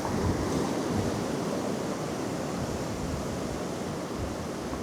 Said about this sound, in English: I will be keeping an eye out for these set waves that are coming in